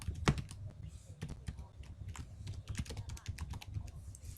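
Rapid clicking of keys on a computer keyboard as an email ID is typed, irregular quick taps at close range, quiet and alone.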